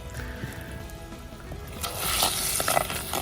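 Fish curry comes to a rolling boil in a pot over a wood-fired stove, a soft bubbling hiss that swells noticeably louder and brighter partway through, close up with no talk.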